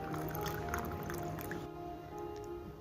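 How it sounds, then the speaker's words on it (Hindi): Cold water is poured into a glass of kulukki sarbath over ice cubes, a soft continuous trickling and splashing pour that stays close and fairly quiet. "मैं इसके अंदर पानी भी ऐड कर रही हूँ"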